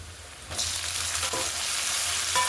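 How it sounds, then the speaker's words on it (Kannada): Onion and tomato frying in a pan, a dense, loud sizzle that starts abruptly and continues steadily with occasional stirring scrapes. "ಟೊಮೆಟೊನ ಸ್ವಲ್ಪ ಫ್ರೈ ಮಾಡ್ಕೊಬಿಡಿ"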